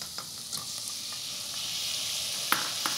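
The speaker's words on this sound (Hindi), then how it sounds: "एक बार मिक्स कर ले अच्छी तरह से और अब हम इसके अंदर टमाटर मिलाएंगे।" Spices for sambhar being stirred in a hot pan give a soft, steady sizzle, broken by a few crisp scrapes of a spoon, the loudest two near the end. No voices.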